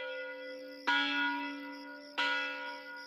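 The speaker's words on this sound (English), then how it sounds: "the bell on Lexington Common calls out the town militia." Church bell on Lexington Common in 1775 sounding the alarm to call out the town militia: two heavy, resonant strikes about a second and a half apart, each ringing on with a long, humming decay.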